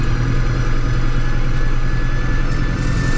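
A tractor engine runs at a steady, loud, close idle, a low rumbling drone with no break, heard on a run through the North Yorkshire Dales.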